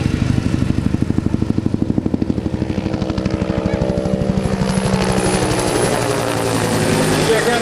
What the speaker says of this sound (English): This is a helicopter that's needing hydraulic boost for the pilots to be able to safely fly the aircraft.